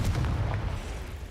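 A fiery Confringo blast from a spell cast in Hogwarts Legacy rolls out as a deep, sustained booming rumble with crackling bursts, loud and close.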